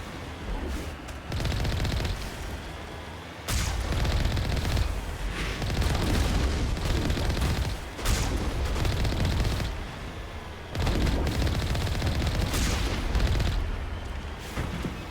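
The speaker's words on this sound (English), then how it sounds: "they're shooting guns at me" Enemy gunfire in the Mass Effect video game comes in loud, dense bursts of rapid shots. Several sustained volleys are separated by brief pauses, with heavy low rumble beneath.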